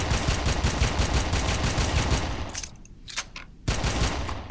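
Rapid pistol gunfire from the Red Faction shooter game: a dense, loud burst of repeated shots that breaks into a short pause with a few isolated cracks before the firing resumes.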